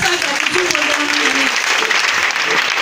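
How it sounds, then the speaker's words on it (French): A congregation at a Christmas 2018 church service in Bregbo claps loudly and continuously for the Lord, dense applause with cheering voices mixed in. "Si tu es d'accord avec moi, acclame le Seigneur."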